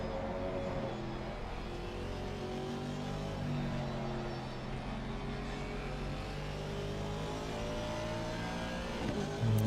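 McLaren race car in Gran Turismo racing at Suzuka: a high, steady engine drone with rising and falling gear-change whines, close and continuous, joined by other cars' engines layered underneath.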